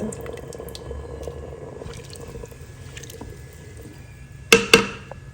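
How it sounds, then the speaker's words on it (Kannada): Water from rinsing a mixer jar is poured into a pot of rice for pulao. After a quiet stretch with faint kitchen noise, two quick splashing gushes sound close by near the end. "ಕೊನೆಯಲ್ಲಿ ಮಿಕ್ಸಿ ಜಾರ್ ತೊಳೆದಂಥ ನೀರನ್ನ ಹಾಕ್ಕೊಳ್ತಾ ಇದ್ದೀನಿ"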